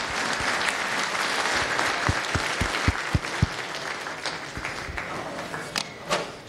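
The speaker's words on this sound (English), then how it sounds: "Round of applause for Rita." An audience claps after a talk at a Kubernetes conference, a short round of applause with some distinct individual claps standing out near the start, fading toward the end.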